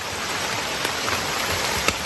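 Steady rain falls outdoors in southern Thailand where elephants are kept, a dense even hiss close by with a few louder drops, no voices.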